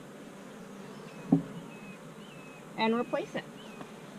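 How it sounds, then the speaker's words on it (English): Honey bees buzzing steadily around a hive frame during beekeeping, a close, continuous drone beneath brief speech and a few handling knocks. "Well, I'm going to shake off these bees first."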